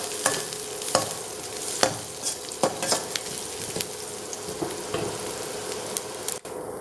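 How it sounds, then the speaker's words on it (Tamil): Onions with a little turmeric sizzle steadily in a hot pan while a utensil scrapes and stirs in repeated strokes, the frying hiss constant underneath. "வெங்காயத்தோட சிறிதளவு மஞ்சப்பொடி, சேர்த்து இது மாதிரி வதக்கணும்."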